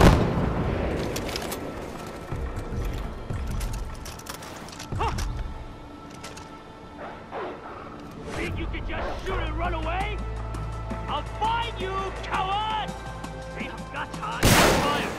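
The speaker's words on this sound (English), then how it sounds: "Shots fired!" Gunfire in Far Cry 4 at the Lhumtse Barracks, several loud sharp shots and booms early on and another burst at the end, with shouted voices and game music between.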